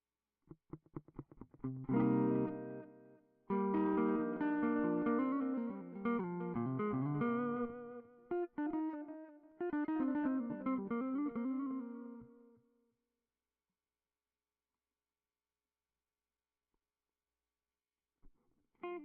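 An electric guitar plays a few chords and notes through heavy distortion and effects, ringing out and decaying into silence near the end.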